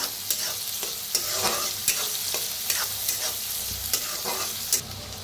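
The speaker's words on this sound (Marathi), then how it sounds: "थोडंसं हिंग, एक कांदा कापून घेतलेला आहे बारीक असा। भाजून घेऊया कांद्याला।" Finely chopped onion fries in a pan with cumin and asafoetida, sizzling steadily and loudly up close while a utensil stirs it in regular scraping strokes.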